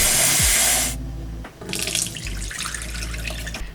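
Water gushes from a kitchen tap for about a second during a quick rinse while cooking orange chicken, then shuts off and leaves softer clattering and handling sounds.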